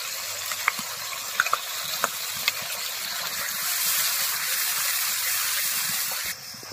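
Ginger, green chili and cashew paste fry in oil with a steady hissing sizzle, punctuated by several soft clicks of a spoon stirring in the pan.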